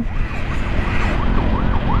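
Ambulance siren from the Bukittinggi brain hospital wailing in a steady rising-and-falling pattern over constant road and engine rumble, heard close while a motorbike escorts it along the highway between Bukittinggi and Padang.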